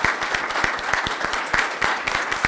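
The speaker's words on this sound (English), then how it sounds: "just give him a round of applause in his absence" A small group claps in a lively, steady patter, close and moderately loud.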